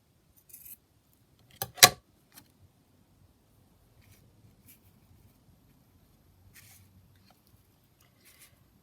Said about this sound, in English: And then we'll just cut that down so it's pretty thin.